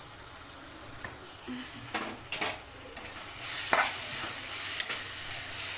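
Potato curry with masala sizzles in a pan, a soft steady frying hiss broken by several sharp scrapes and clinks as a spoon stirs it.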